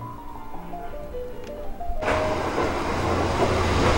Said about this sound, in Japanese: 来ましたね、朝霧の中を、名寄行きの普通列車です。